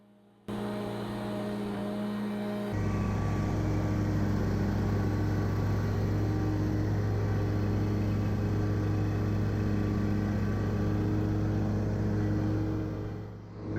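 A riding lawn mower with a pivoting front end works along a steep bank, its engine droning loud and steady after a sharp step up in power, running continuously before easing off at the end; no talking.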